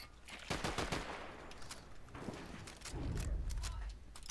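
Gunfire in a battle royale video game: several sharp, rapid shots in bursts near the start and later, faint and somewhat distant, with a low rumble underneath and no speech.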